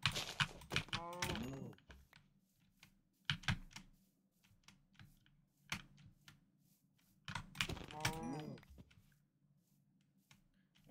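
Horses and cows in the Minecraft video game, with two bursts of animal whinny-like game sounds near the start and again around eight seconds, amid soft clicking footstep and keyboard-like taps in a quiet background.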